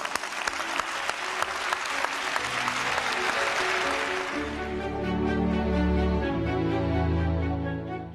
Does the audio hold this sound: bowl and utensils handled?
no